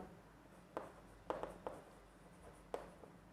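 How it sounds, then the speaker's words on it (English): Handwriting strokes of notes on organic chemistry, nitration, set down on paper: a few short scratchy pen strokes in small clusters, fairly quiet over a low steady background hum, no talking. "So I am writing it, nitration"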